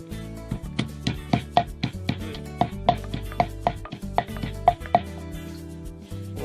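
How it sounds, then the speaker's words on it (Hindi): Garlic is pounded for chicken biryani in a home kitchen, a rapid series of close, sharp thuds and knocks in an uneven rhythm with no voices. "अब इस पर थोड़ा सा जो लहसुन है वो कूटेंगे।"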